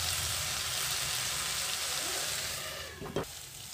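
Banana flower curry (mochar ghonto) sautéing over low heat in a pan gives a steady close sizzle, with a brief utensil scrape and clack near the end and no voices.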